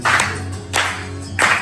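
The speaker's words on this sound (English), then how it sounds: "let's see all the hands up and clap it" A holiday crowd in Marmaris, Turkey claps in unison to a beat, giving three loud, evenly spaced claps over a low hum.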